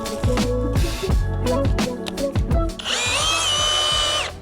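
Battery-powered rotary hammer drilling, with loud repeated bursts of hammering and trigger pulls in short rhythmic stretches, followed by a sustained high-pitched whine as the tool runs continuously near the microphone.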